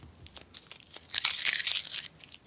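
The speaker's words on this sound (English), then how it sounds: "Let's remove all the masking tape." Masking tape peeled from dry watercolor paper, a few short crinkly tearing rips building to a longer bright strip being pulled away, close and fairly quiet.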